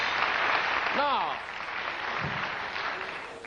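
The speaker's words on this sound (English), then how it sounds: "usually applause is still going while I do this." Studio audience applause on a 1974 late-night television talk show: dense, sustained clapping that slowly tapers, with a brief sliding tone rising through it partway.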